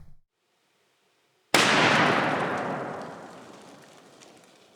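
A single .50 BMG rifle shot fired at an airsoft gun: after a short silence, one sudden very loud broadband blast that rings out and slowly decays over several seconds.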